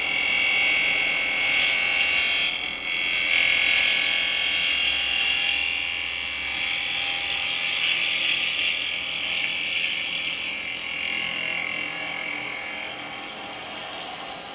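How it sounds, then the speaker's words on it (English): A yew bowl spins on a woodturning lathe under a half-inch spindle gouge, giving a continuous, even, close cutting hiss with a slight drone, steady for the whole stretch and without speech. "That's been done with a half inch spindle gouge."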